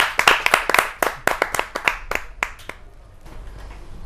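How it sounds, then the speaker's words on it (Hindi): A small audience at a Hindi poetry gathering claps in sharp, close bursts, loud and rhythmic at first, then thinning to a few scattered claps before fading out. "जोरदार तालियों से आमंत्रित कीजिए प्रवीण आर्य जी"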